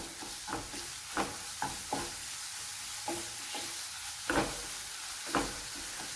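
Spices and salt for Bombay potatoes sizzle steadily in a pan, with periodic scraping stirs knocking through the constant frying hiss. Close and moderately loud, no voices.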